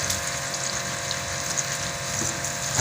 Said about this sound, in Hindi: अच्छे खुले पानी से धोएं इसको